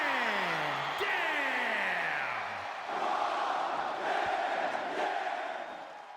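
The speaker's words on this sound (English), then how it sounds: "You hear the crowd chanting along his name." A large crowd in a WWE 2K24 wrestling video game roars and chants a wrestler's name together, loud and sustained, with a booming announcer-like voice sweeping downward in the first few seconds.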